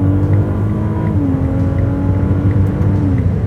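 An 830 hp Ferrari 296 GTB V6 plug-in hybrid supercar drives in Spain, its engine a loud, close, deep droning roar that shifts pitch partway through, with no talk.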